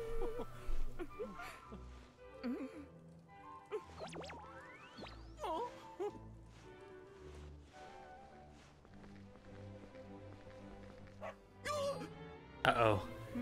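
A dog barks and whimpers in the video game Dragon Quest XI S, with short yips among busy game music and effects, loud near the end, while a person talks over it.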